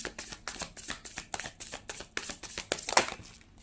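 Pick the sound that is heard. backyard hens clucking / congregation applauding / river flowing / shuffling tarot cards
shuffling tarot cards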